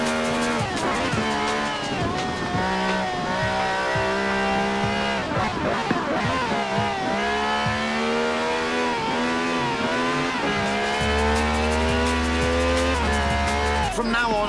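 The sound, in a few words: V12 car engine from Forza Horizon 4 video game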